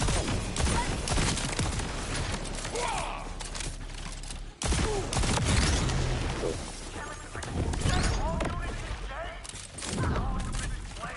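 Shotgun blasts in the video game Borderlands 4 on PS5, with several heavy booming shots spaced a few seconds apart and crashing impacts between them, loud and close.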